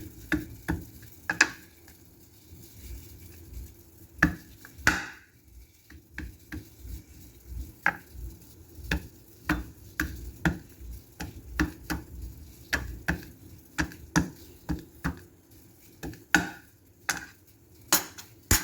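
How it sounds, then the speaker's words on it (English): Fresh ginger is crushed by hand for masala chai in a home kitchen, giving repeated sharp irregular knocks and taps close by over a low steady background hum, with no talking. "And next is ginger. Just crush like that."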